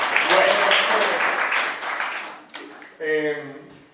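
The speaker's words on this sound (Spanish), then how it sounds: "Un aplauso para Nico" An audience applauds a volunteer at a church gathering, with dense clapping for about two and a half seconds before fading, followed by a voice speaking.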